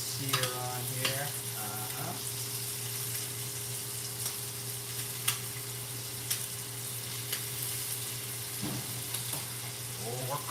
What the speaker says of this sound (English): Get a little sear on here.